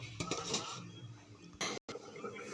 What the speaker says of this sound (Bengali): এবার একটু ঢেকে দেবো